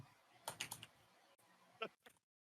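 Rapid clusters of soft clicks from a computer keyboard being typed on, coming in short bursts with pauses between, fairly close and moderately quiet, with no talking.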